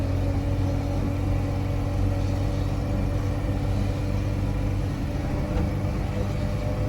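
An old Thames vehicle with a 30 mph top speed crawls up a hill, its engine giving a steady, low, droning rumble throughout, close and even with no gear changes or pauses.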